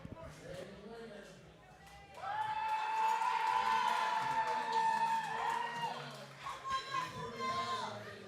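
Crowd at a powerlifting state championship cheers and chatters for a lifter, a loud sustained swell of voices rising after a quieter start and carrying through with a whistle-like tone on top.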